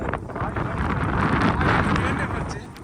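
Strong wind roars across the microphone on a fog-covered hilltop at Kyathanamakki Hills, a steady, rushing blast that swells a little in the middle and stays loud throughout.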